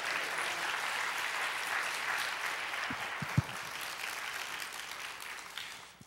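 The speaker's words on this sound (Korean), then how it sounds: "박수로 우리 환영하도록 하겠습니다" A church congregation at a revival meeting applauds to welcome the guest pastor, a sustained wash of many hands clapping at moderate distance with a few sharper knocks, tapering off near the end.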